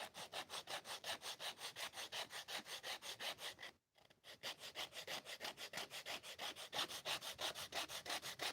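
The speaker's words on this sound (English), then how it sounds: "So a little bit of sanding." Hand sanding of a wooden box, a steady rhythmic back-and-forth rasp of abrasive on wood, close and even, with one brief pause midway before the strokes resume.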